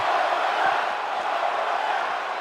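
A wrestling crowd at a live women's wrestling event roars and chants in a dense, steady wash of voices that fills the hall without a break.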